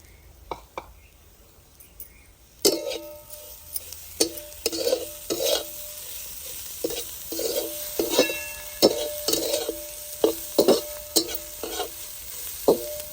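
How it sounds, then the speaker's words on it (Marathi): Coriander leaves are stirred and sautéed in a pan for sambhar vadi filling, with repeated spatula scrapes and taps over a soft sizzle, starting faint and growing busier. "आपण आता याच्यामध्ये कोथिंबीर टाकून घेणार आहे"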